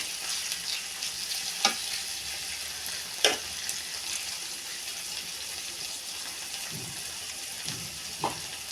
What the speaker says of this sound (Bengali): এবার আরও কতক্ষণ নেড়ে ছেড়ে কষিয়ে নিব।